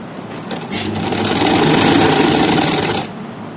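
A sewing machine runs a full line of stitching on an umbrella frock, a steady close whirring buzz that rises in speed, holds for about two seconds and then stops.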